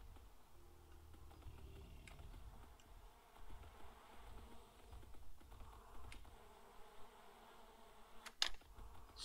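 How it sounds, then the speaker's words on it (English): A swarm of bees buzzes in the video game Atlas, a low droning hum that swells and fades over soft ambient background, with a few faint clicks and no voices. "Swarm of bees."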